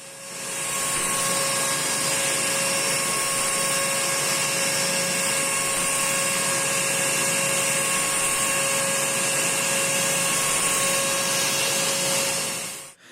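A QXM interlock circular knitting machine runs at full speed, giving a loud, continuous whirring drone with a steady tonal hum and no variation. It spins up at the start and winds down at the very end.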